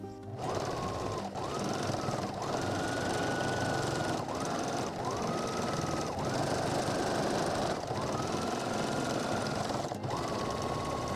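A sewing machine stitches across an apron seam at close range, running in steady stretches broken by several brief pauses, with no talking.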